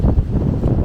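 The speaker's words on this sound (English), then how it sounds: "This is a gorgeous little spot, even though it's very windy." Wind buffeting a handheld microphone outdoors at a windy spot, a continuous low rumble with gusty swells throughout, no voices.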